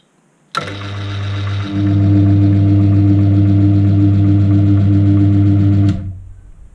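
A metal lathe cuts an internal thread at high RPM while making a gear cutter arbor, giving a steady, loud motor hum with a tonal whine that starts abruptly and stops about five seconds later.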